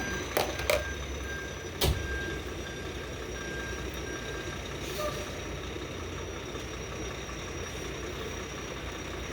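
A truck idles with a steady low engine rumble as its reversing alarm gives a few faint, spaced beeps early on, then the drone carries on alone.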